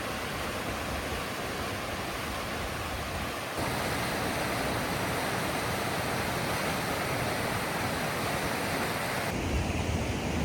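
Steady broadband rushing of water, loud and continuous, as Bering Creek in Glacier National Park pours hard through a channel, with no voices.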